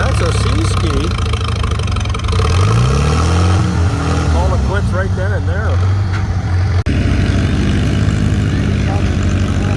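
A loud antique tractor engine chugs and revs steadily at a tractor pull, its pitch rising and falling, with voices talking over it.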